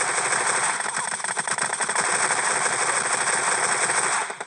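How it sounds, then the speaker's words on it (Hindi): Rapid gunfire from a Groza rifle in PUBG Mobile Lite, a dense, continuous rattle of shots that runs loud and steady throughout with no voices over it. "ग्रोजा के साथ हेडशॉट ही हेडशॉट भर दी मैंने बंदों के"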